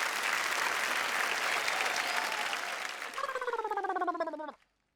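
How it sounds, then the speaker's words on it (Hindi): Loud, enthusiastic audience applause at a Hindi poetry recital, a dense crowd clapping that thins into a few rhythmic, echoing claps before stopping abruptly. "जरा जोरदार तालियां।"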